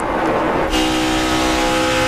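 Stock cars roar around the track at the 2009 Sam's Town 300 NASCAR race, a loud, steady, harmonic engine drone that swells as a pack of cars passes close by.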